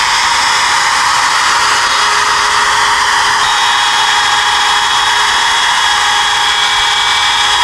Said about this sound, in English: I'm going to use a router with a 1/4 inch straight in it for cutting.